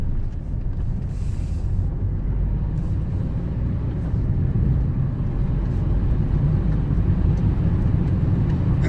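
Inside a Fiat 500 Dualogic with a gearbox that jumps out of gear, a steady low road and engine rumble carries on throughout the drive, with some wind noise and no talking.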